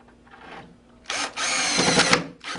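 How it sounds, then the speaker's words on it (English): A power drill with a Phillips bit whirs in short bursts, the second run longer and louder, driving number 8x2 screws close by while installing a pullout wood pantry. "grab your drill with your Phillips head bit and grab 4 number 8x2 screws"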